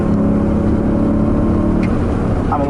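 A BMW M3 E90/E92 engine revs hard under acceleration, a loud, continuous engine roar heard from inside the car, with a brief squeal near the end.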